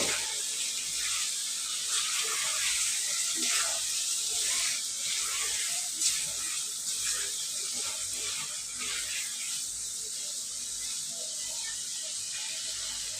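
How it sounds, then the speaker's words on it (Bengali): Eggs sautéed with spices in a pan, giving a continuous close, hissing sizzle with faint scraping now and then, heard alone without talk. "এখন আমি ডিম দিয়ে দিব ডিম দিয়ে আমি আমার ভালোভাবে কষিয়ে নেব"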